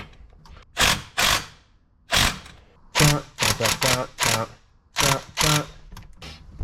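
A ratchet tightens the bottom thermostat housing bolts on a 2015 vehicle, producing short bursts of rapid metallic clicking, close and fairly loud, separated by brief pauses.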